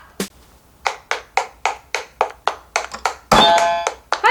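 High-heeled shoes step in an even sequence of about a dozen sharp, close clacks. A bright ringing burst near the end briefly covers the steps.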